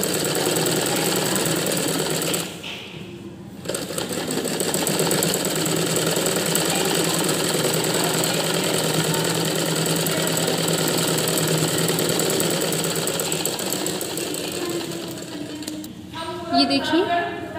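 A sewing machine runs a steady, continuous mechanical whir while top-stitching a smocking frock, with one brief pause and a small burst of clatter near the end.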